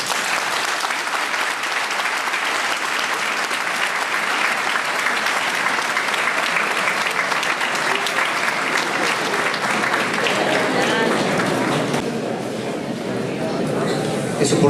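Following a lecture on criminal and procedural problems in money laundering, an audience gives long, steady applause, a dense continuous clatter that thins slightly near the end while voices can be heard faintly beneath it.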